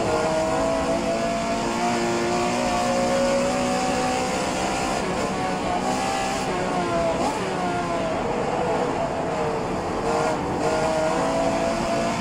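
Porsche 911 Carrera RSR 3.0L race car in rFactor 2, its engine revving hard and pulling through corner exit with rising and falling pitch, loud and continuous throughout, with brief tire noise.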